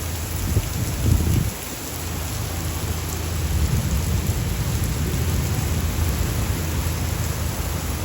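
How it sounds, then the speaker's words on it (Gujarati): Steady heavy rain roars close by, with a deep rumble of thunder early on and continuous low storm noise beneath the downpour. "જો ભાઈ વાવાઝોડું આવ્યું હે"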